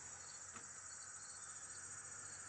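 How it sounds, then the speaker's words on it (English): A cricket chirps inside a house, a faint, steady high-pitched trill that repeats in quick pulses over a quiet background hum, with no talking. "He'll be my pet cricket." Keeps making noise."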